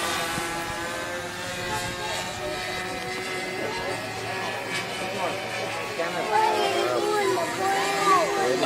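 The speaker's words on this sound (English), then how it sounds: "Plane is coming to you from the left to the right." Propeller aircraft flying low and inverted at an air show, its engine droning steadily at a moderate distance with a rising pitch toward the end, under an announcer's talk.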